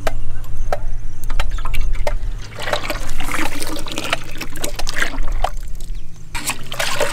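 Tender coconut water and ground coconut milk being poured into a payasam, tender coconut pudding, in an outdoor village kitchen: a close, continuous trickling and splashing stream of liquid that briefly pauses and resumes.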